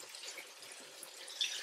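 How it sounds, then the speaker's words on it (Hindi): About half a cup of water is poured into a pan of cooking tomato masala, giving a soft steady hiss and trickle with faint sizzling. No one speaks. "मैं आपके सामने पानी डाल देती हूँ यहाँ पर"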